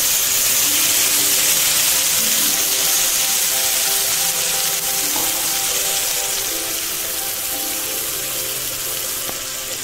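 Green chili and onion paste hits hot oil in a pan for a Bengali katla kalia fish curry, releasing a broad, loud, steady hiss that fades slightly toward the end, with no voices.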